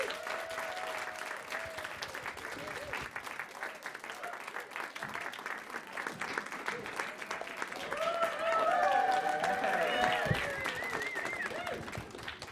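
A live audience claps to welcome speakers onto a stage, a dense, steady wave of applause that swells toward the end. Scattered voices and cheers mix in with the clapping.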